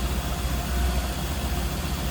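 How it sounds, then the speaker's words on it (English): A 1939 Dodge TF37 pickup with a 5.3 liter engine and headers idles smoothly, giving a steady, close low rumble. "smooth running engine"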